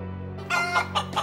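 A chicken clucks several times in quick, uneven bursts over a steady low hum, close and fairly quiet.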